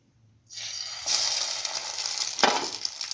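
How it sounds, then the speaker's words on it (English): Bread dipped in a chili, ginger, garlic and egg mixture hits the pan after a half-second of quiet, then fries with a loud, continuous close-up sizzle that swells briefly near the end. "and let it fry"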